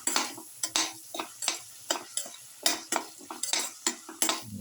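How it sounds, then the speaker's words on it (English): A spoon repeatedly scrapes and knocks against a pan while winter melon is sautéed with chili powder, rhythmic close stirring strokes over a light sizzle. "Saute and mix thoroughly"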